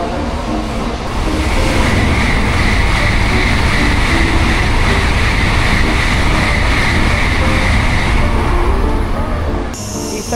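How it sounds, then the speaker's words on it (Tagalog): A Shinkansen bullet train bound for Tokyo rushes past, a loud, steady, close roar of wheels and air lasting about ten seconds before cutting off abruptly. "We're now waiting for the train bound to Tokyo."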